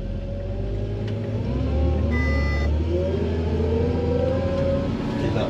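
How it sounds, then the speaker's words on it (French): Tractor pulling a stubble cultivator through a field being prepared for onion planting, its engine a steady, loud, continuous drone with a brief rise in pitch midway, heard close and alone. "Parfait, là le tracteur tire très bien."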